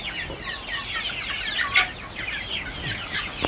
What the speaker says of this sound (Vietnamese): Đưa con gà đây.